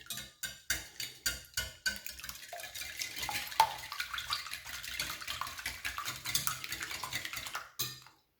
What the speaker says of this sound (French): Là, je vais mélanger.